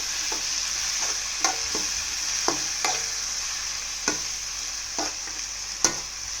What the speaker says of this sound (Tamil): இப்போது தக்காளியை சின்னதாக நறுக்கி வச்சுருக்கேன், அதை சேர்த்து வதக்கிக்கலாம்.